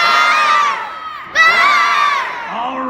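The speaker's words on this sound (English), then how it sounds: "you're going to yell ver as loud as you can" Half a room of children in an audience at a robotics presentation yell together very loudly, two long drawn-out shouts one after the other, with a softer tail of voices at the end.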